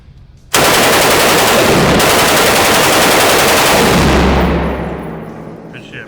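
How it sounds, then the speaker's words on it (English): A gun fires a long, loud, continuous burst of rapid shots at an outdoor shooting range, sustained for several seconds before tapering off into echo. "that's the craziest gun I've ever shot"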